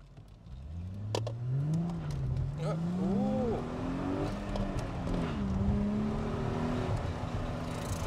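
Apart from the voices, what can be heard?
Chrysler Crossfire engine revving while accelerating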